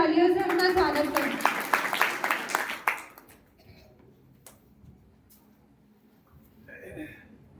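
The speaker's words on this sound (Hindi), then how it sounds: "कृपया जोरदार तालियों से उनका स्वागत करें।" An audience applauds to welcome a speaker at a 31 October 2025 event marking the 150th birth anniversary of Sardar Vallabhbhai Patel. Dense clapping lasts about three seconds, then fades to near silence.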